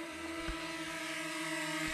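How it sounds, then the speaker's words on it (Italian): Camera drone in flight over the Crete Senesi countryside near Accona, a steady buzzing whine with stable rotor tones and light wind noise, heard continuously and fairly close throughout. "E ora facciamo guidare il nostro drone."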